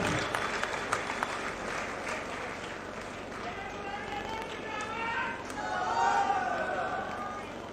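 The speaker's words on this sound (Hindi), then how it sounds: "अपनी तालियों के बीच उनका स्वागत करें" Crowd at an Aam Aadmi Party rally in Fatehabad applauding to welcome speaker Anurag Danda, sustained broadband clapping and cheering with murmuring voices mixed in, steady and fairly loud throughout.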